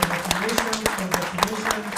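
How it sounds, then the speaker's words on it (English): An audience at an integrity awards ceremony claps for an award winner in a fairly regular, rhythmic beat, with a voice and tonal sounds running underneath the claps throughout. "Let's clap for him."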